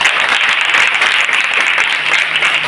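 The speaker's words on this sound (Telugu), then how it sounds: "ప్రియులారా, చప్పట్లు కొట్టి దేవుని మహిమపడతాం." A church congregation claps together during a Christmas celebration, producing a dense, steady wash of applause that runs loud and unbroken from start to finish.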